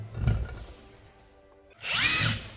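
A power tool briefly whirs while unscrewing bolts from the flange of an ABLE ELECTRIC electric motor, a short close burst after a quiet stretch with faint clicks.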